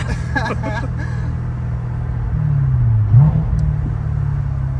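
A Corvette C7 Stingray cruises slowly through town with a deep, steady engine rumble and a brief rev near the middle. Voices talk over it at the start.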